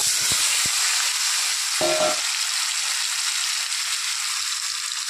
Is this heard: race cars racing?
no